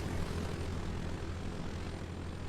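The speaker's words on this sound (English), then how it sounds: "Why are they flying a biplane?" A propeller biplane in a Vietnam War combat video game drones overhead as a steady, fairly faint engine hum with no voices over it.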